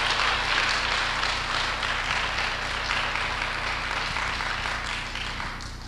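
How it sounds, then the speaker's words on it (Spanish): A church congregation applauds with dense, sustained clapping that holds steady and fades slightly toward the end, filling the room without any talk over it. "Y saben que todos los aplausos son para el Señor, ¿no es verdad?"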